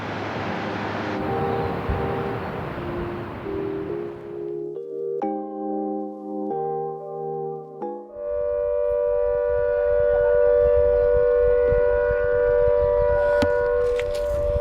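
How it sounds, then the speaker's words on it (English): A loud civil defense test siren at Arthur's Pass begins with a falling wail, then drops into stepped tones before settling into a sustained steady blare, with traffic noise underneath. "the siren sound, which sounds very similar to an air raid siren"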